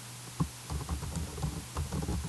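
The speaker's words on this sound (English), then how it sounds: "I'm just randomly typing information here" Random typing on a computer keyboard, a soft stream of quick irregular key taps heard close over a steady background hum, with no talking.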